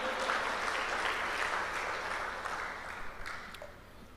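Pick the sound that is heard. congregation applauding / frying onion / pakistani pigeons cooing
congregation applauding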